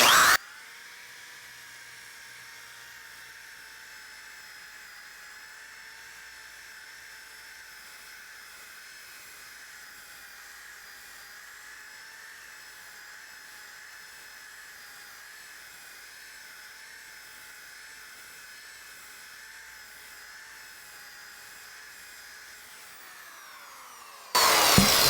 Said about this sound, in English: So here is the disc sander.